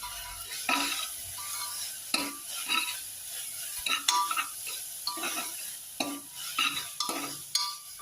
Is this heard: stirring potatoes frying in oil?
yes